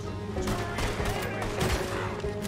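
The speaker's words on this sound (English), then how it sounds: "I shot him in the heart" Gunfire in Red Dead Redemption 2 as Arthur's gang stages a jailbreak: a dense, continuous fusillade of shots fills the scene, with voices talking over it.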